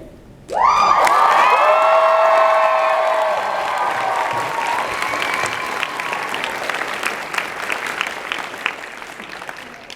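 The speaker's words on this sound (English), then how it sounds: "I want to start by having the whole audience give a special cheer." Convention audience at a 90s fan convention panel in Daytona Beach, Florida bursts into loud cheering and applause after a brief quiet start, with whoops and high shouts over sustained clapping that slowly tapers while staying strong.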